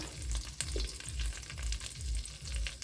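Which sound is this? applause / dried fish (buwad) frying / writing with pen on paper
dried fish (buwad) frying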